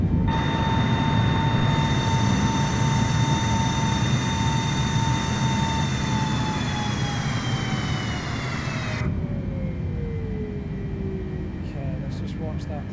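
Airliner engines roar steadily as the jet climbs after takeoff in Microsoft Flight Simulator 2020, a loud continuous drone whose whine drops in pitch and then cuts to a quieter hum partway through.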